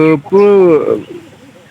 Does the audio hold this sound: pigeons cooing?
yes